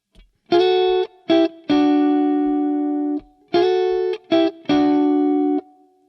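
An electric guitar plays a rhythm pattern of short chord stabs and held chords, repeated twice in a clear pulse and capped by a little fill, close and alone without talk.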